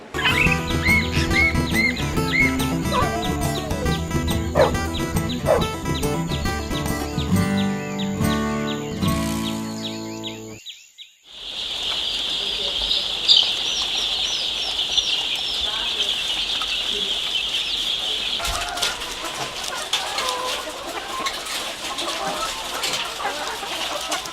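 Laying hens cluck in a poultry farm, a steady dense flock chorus with bright chirping, heard clearly in the latter half after a burst of music and a brief dip to near silence.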